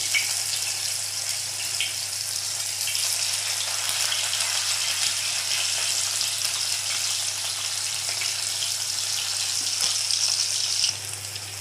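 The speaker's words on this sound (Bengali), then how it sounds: "এই তো দেখেন লাল লাল করে ভেজে নিচ্ছি" Chicken pieces frying in hot oil, a steady, dense sizzle that continues unbroken and close at hand, with no talk over it.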